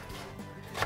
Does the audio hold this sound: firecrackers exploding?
no